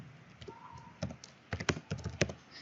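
Typing on a computer keyboard while writing Python code, a quiet run of clicky keystrokes that speeds into a quick cluster near the end, with no talking.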